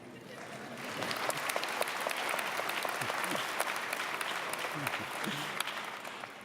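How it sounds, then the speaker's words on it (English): Applause rises and swells at an engineering convocation ceremony, a crowd clapping steadily with crisp individual claps standing out while voices murmur underneath. "You can clap."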